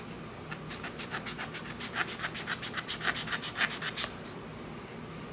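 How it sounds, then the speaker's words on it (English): Hand sanding with 400 grit sandpaper to blend a finish repair on a Stratocaster-style guitar body: about twenty fast, even back-and-forth rubbing strokes, close and clear, then stopping abruptly. "A little bit of 400 grit, and we'll just get this blended a little bit."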